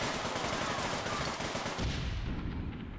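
Rapid gunfire from a video game with police enforcers arriving as backup, a dense sustained burst of shots like a machine gun throughout, loud and close with no talk.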